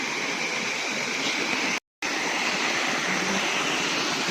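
Water rushing steadily through a small stream in rural Kerala, a dense continuous broadband roar with a brief gap of silence midway.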